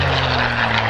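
A CAC CA-18 Mk21 Mustang propeller aircraft flies past at the Wings Over Illawarra 2019 airshow with a loud, close, rumbling engine drone that holds steady through the moment.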